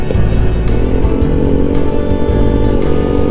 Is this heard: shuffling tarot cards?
no